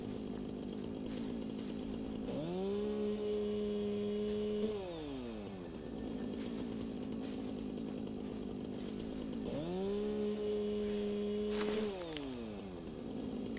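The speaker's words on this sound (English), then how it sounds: "using the chainsaw is perhaps a little more satisfying than I initially gave it credit for" Chainsaw in the video game Satisfactory cutting down trees: two separate bursts where the motor revs up, holds a steady whine for a couple of seconds, then winds down, with a low ambient bed between them.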